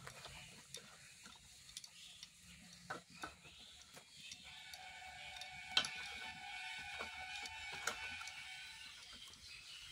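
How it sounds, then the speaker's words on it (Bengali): Eggplant pieces being mixed with spices by hand, giving a continuous soft squelching and rubbing texture with scattered small clicks, moderately close and fairly quiet, with no talking. "এবার সব বেগুনগুলোতে ভালো করে মাখিয়ে নেব"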